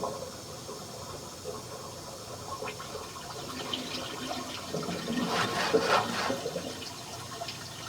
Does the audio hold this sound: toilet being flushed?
yes